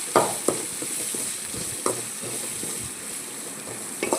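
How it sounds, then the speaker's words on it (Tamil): Broad beans with pepper sizzle steadily in a hot pan while a utensil stirs and scrapes, giving a few sharp clicks against the metal. "நல்லா சேர்த்து மிக்ஸ் பண்ணிடணும். நல்லா வதக்கிடலாம்."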